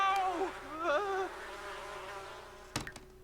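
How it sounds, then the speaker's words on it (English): Bees buzzing in the Sims 4 video game, a steady close droning hum with wavering pitch, followed by a short clatter near the end. "She's trying to make friends with the bees."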